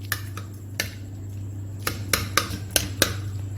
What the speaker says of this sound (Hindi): इसे अच्छे से मैश कर लेंगे।